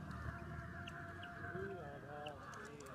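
Ducks honk and quack near a flower garden where Chinese hens are also kept, several short nasal calls scattered over a faint outdoor background, with quiet talk underneath.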